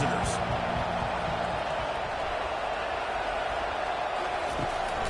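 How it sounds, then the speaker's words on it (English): A college football crowd at an FCS Missouri Valley Conference game keeps up a continuous, even roar in the early going, a loud dense wash of noise with no break. "Listen to the crowd energy here in the early going."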